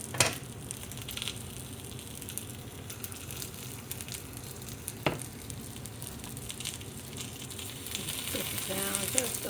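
Crab and shrimp cakes sizzle in a frying pan with a soft, continuous crackle, interrupted by a sharp clink and faint clatter, while someone talks quietly now and then.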